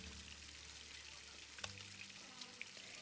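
Steady low sizzle of beef steak searing in plenty of hot oil in a pan, a faint continuous crackle with a few small pops, quiet and without talk.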